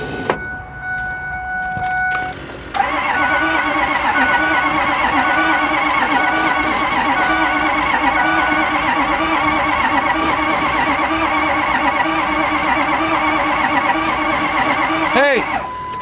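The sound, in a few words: Ford 6.0L Powerstroke diesel engine being cranked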